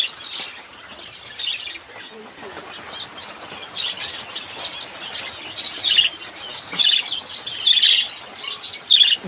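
Pet birds chirping near their water: a busy run of high, bright tweets and short squawks with a few brief wing flutters, growing livelier toward the end over a faint murmur.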